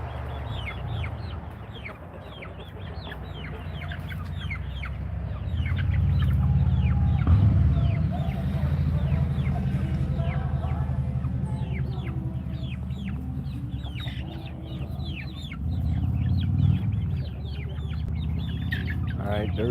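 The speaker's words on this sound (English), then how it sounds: "Here comes the young rooster." A young rooster and several chickens cluck in a farmyard, with steady overlapping clucks and short calls close by, underneath a low, continuous rumble of background noise.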